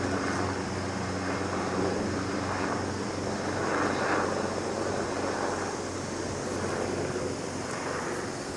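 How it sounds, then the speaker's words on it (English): A helicopter flies around overhead outdoors, heard as a steady, fairly loud broad rumble with wind noise that swells slightly and fades toward the end. "Where'd the copter go?"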